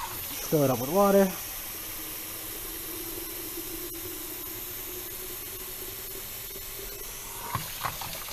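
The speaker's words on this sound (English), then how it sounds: "Fill it up with water." Water runs steadily from a tap into a pot in a home kitchen, a soft continuous hissing spray lasting several seconds, with a brief voice at the start and a small clink near the end.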